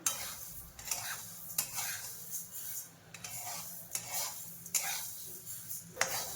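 Coriander seeds dry roasting in a pan, heard as quiet, regular scraping and rustling strokes of a spatula about every second, with faint rattling of seeds and no talking.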